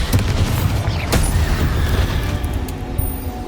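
Bombarda blasting spell in Hogwarts Legacy inside a mine, a booming explosion with a sharp crack near one second over continuous rumbling debris and low roar, loud and dense throughout.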